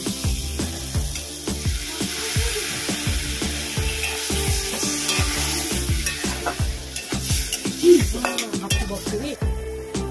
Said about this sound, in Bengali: লঙ্কার গুঁড়ো, হলুদ, ভালো করে মিশিয়ে নেব। অল্প পরিমাণে জল দিয়ে দেব।